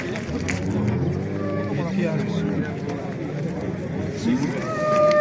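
Cattle low and moo at a busy livestock market, with deep calls rising over the background hubbub. People talk close by throughout, and the crowd murmurs around them.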